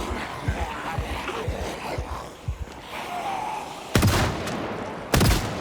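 Two loud, sharp shotgun blasts in the zombie survival game Project Zomboid ring out close, about a second apart near the end, after a stretch of low thuds and shuffling.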